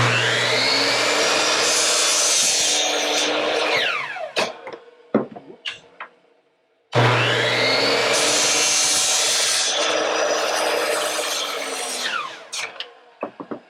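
Power saw cutting wooden dowels to length against a stop block, two loud sustained cuts each running several seconds and ending in a scatter of small knocks and rattles, with a brief gap between them and no talk.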